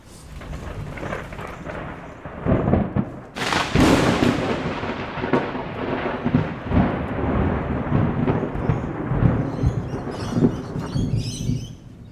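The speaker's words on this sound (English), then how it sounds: "It was one of those monumental once or twice a year storms, and I ran out with my recorder, and this is what I recorded." A major thunderstorm in Sydney: a loud thunderclap erupts and rolls into a long rumbling tail over steady heavy rain, with birds chirping faintly near the end and no voices.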